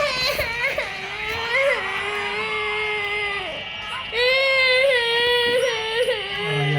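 A younger child wails in the background, drawn-out, wavering cries rising and falling over several seconds, with the pitch sliding between sobs.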